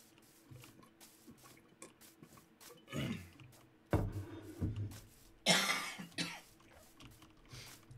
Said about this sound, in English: You've had that cough such a long time